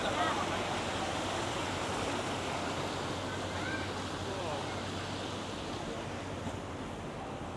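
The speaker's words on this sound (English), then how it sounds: "Lovely water feature." Water feature in a City of London square on a summer day, a steady close splashing and rushing of falling water that dominates the scene, with faint wind and distant city murmur underneath.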